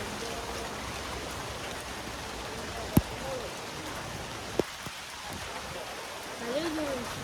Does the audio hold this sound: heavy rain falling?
yes